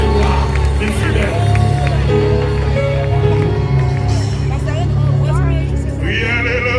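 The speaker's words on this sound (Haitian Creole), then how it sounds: "Est-ce que tout le monde qui a entendu qui a crié alléluia?" A large congregation at a Haitian church gathering raises a loud, continuous roar of shouting and cheering, voices overlapping with music throughout, with no lull across the whole stretch.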